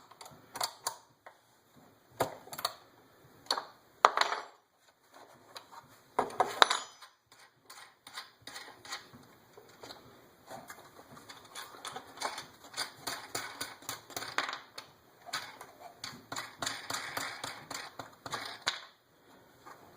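A 7/16 wrench works loose the jam nuts holding a gear assembly together, giving irregular metallic clicks, clinks and ratcheting taps close by, in bursts with short pauses and no talking.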